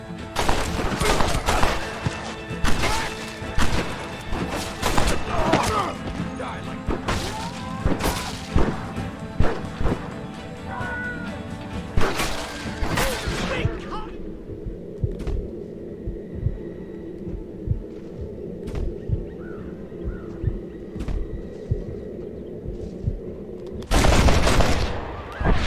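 Gunfire in the video game Red Dead Redemption: a rapid run of sharp, loud shots and crashes over a low hum, then a quieter humming stretch before another burst of shots near the end.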